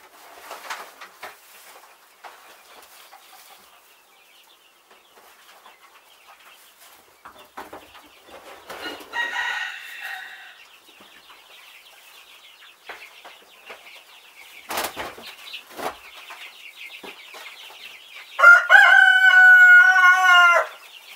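Day-old to four-week-old chicks and young chickens cheep and cluck softly while waking, with scattered chirps building to a loud, harmonic rooster-like crow near the end.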